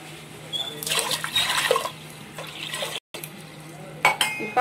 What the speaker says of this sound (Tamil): இப்போ 5 கிளாஸ் தண்ணி ஊற்றிருக்கேன்